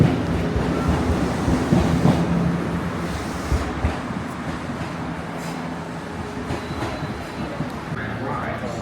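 An Odakyu Romance Car train runs through Tokyo, a steady rumble with rhythmic clacking of wheels on rails and broad rushing noise throughout, voices faintly present in the background.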